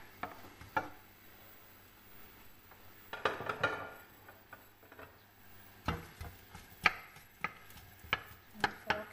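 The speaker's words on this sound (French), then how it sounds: "Donc les oignons, vous pouvez les couper grossièrement si vous voulez." Onions are coarsely chopped on a board beside a pan of heating oil, with irregular knife taps and a denser burst of cutting, the taps sounding close and moderately loud with no talking.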